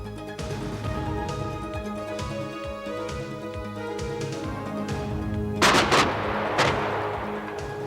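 An AMX-30 GCT 155mm self-propelled artillery piece on a French tank chassis firing, heard as loud gunfire blasts layered over a sustained mechanical drone, with a sharp cluster of reports near the end.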